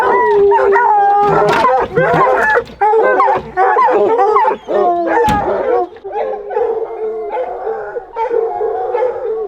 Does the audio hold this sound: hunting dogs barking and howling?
yes